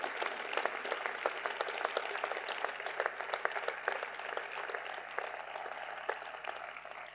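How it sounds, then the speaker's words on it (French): Audience at a mayor's New Year address in Voiron applauding uniformed police officers, a steady, fairly quiet wash of many hands clapping that holds evenly throughout with no voices over it. "Je vous remercie, eux aussi, de bien vouloir les applaudir"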